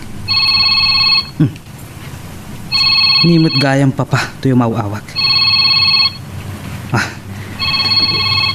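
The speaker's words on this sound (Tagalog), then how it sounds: "Ti cellphone ko, agri-ring." A cellphone rings in repeated bursts of a bright electronic ringtone, with dialogue spoken in Ilocano between the rings.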